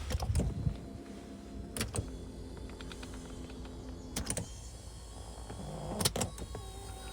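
Electric seat motor adjusting in the cabin of a 2021 Ford Ranger Wildtrak 2.0 TDCi automatic, a whirring motor running in several bursts separated by sharp clicks and brief pauses, close and fairly quiet.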